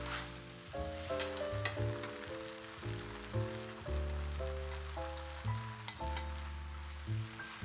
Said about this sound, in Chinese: 再全部翻炒均匀，让每根米粉都沾上调料的味道。